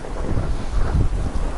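A thunderstorm with heavy rain in Three Fourths Home brings a dense, steady downpour hiss under a low rumbling of thunder for a short moment, with no voices.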